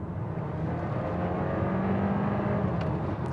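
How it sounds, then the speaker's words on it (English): A Volkswagen T-Roc CityLife small SUV with a 4-cylinder engine pulls from 60 to 80 km/h in normal drive, producing a steady, full engine drone with road noise that holds at an even loudness throughout. "I go to put my foot on the accelerator from 60 to 80 kilometers an hour"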